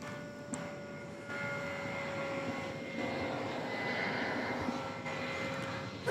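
A Delta jet approaching DFW Airport at night produces a faint, steady engine rumble with a thin whine, heard from a distance against the background.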